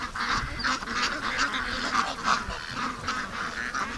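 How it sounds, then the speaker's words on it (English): A flock of ducks heading back to the safety of a yard by a lake keeps up steady, overlapping honking quacks, fairly close and without pause. "Okay, ducks are coming back."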